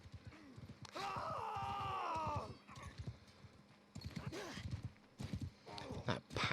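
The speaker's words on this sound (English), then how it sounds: "Look at that horse movement as well." Horse hooves clip-clop in rhythmic bursts during a dueling championship in Mount & Blade II: Bannerlord, joined by a loud drawn-out whinny and groaning neighs, fairly close and lively.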